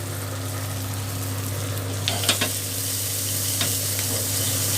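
An egg fries in a little oil, giving a soft continuous sizzle over a steady low hum, with a few brief utensil scrapes partway through.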